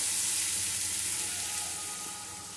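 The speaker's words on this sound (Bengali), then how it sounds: "মশলাটা দিয়ে ভালো করে আমি একটু কষিয়ে নেব।" Spice paste sizzling and frying steadily in a hot pan for a Bengali-style fish and brinjal jhal, a continuous close hiss that fades slightly toward the end, with no talking.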